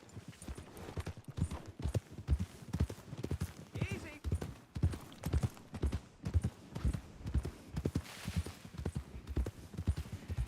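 Horse hooves clip-clop in a steady, fairly quick rhythm in a video game, sounding close and running under a person's continuous talk.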